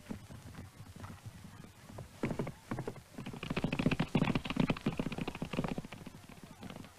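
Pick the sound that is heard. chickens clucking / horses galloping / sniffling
horses galloping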